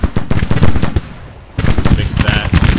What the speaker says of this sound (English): Begin firing, sir.